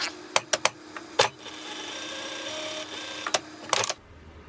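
A sewing machine stitches a welt seam nearby, a steady mechanical hum punctuated by several sharp clicks and clacks at the start and end of the run.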